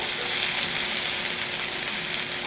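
Sausage frying in a pot for a spiced shrimp stew, giving a steady, close, dense sizzle that holds evenly throughout with no talking.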